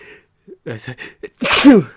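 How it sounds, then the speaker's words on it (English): A single sharp sneeze bursts out close by, preceded by a few quiet breathy sounds and brief vocal noises. "Sorry, I just sneezed there."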